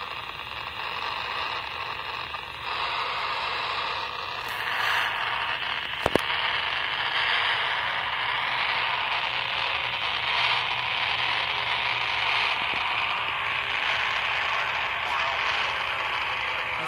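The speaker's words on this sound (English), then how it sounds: "I think somebody's just got a weak signal and they're trying to transmit." Steady hiss of radio static throughout, with a faint, barely discernible weak amateur radio satellite signal, received on a handheld radio, buried in the noise and an occasional crackle.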